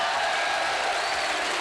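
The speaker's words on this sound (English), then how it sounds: "Big roar." A rugby league crowd of several thousand roars steadily as Leeds run out to face Wakefield Trinity in 1989, a dense, continuous wall of cheering and noise.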